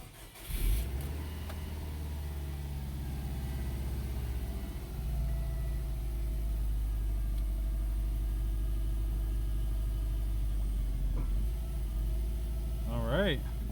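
A Subaru WRX engine fires up for the first time after a clutch replacement, then settles into a loud, steady low idle rumble while a person talks over it briefly.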